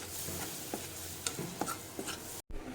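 Flour being stirred into melted butter in a pan for white sauce, with soft scraping strokes and a faint sizzle, several distinct stirs spaced across a short quiet stretch.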